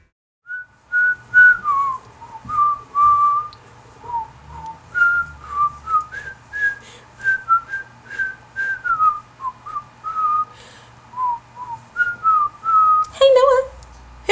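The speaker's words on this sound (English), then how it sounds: "I'm whistling my favorite song" Someone whistles a cheerful summer song alone, a clear melodic tune of sustained and gliding notes in short phrases over about fourteen seconds, ending with a brief sharp flourish.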